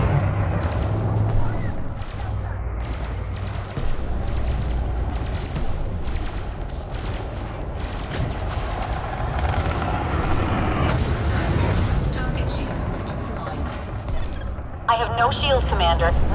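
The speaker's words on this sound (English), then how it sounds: "Taking enemy fire, Commander" Enemy fire pounding a player ship in the space game Elite Dangerous during an attack on megaship turrets, continuous heavy booms and impacts with a synthetic voice reporting alongside.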